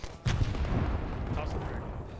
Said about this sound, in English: Are those friendly mortars?